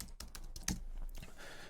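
Rapid typing on a computer keyboard while entering a command into an AI app: a close, quiet run of crisp key clicks in an uneven rhythm, with no speech.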